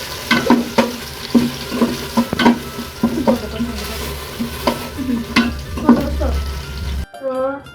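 Onion and garlic paste frying in hot oil makes a loud, close sizzle, broken by repeated clacks and scrapes of a stirring spoon, and it ends with a short pause.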